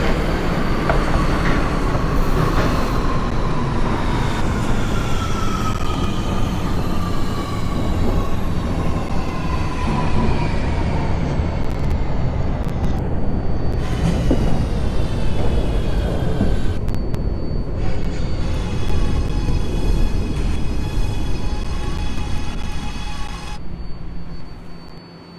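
An R211A subway train on the A line to Far Rockaway, simulated in the OpenBVE game, rumbles steadily with rising and falling motor whine, wheel noise and brief squeals throughout, with no talk.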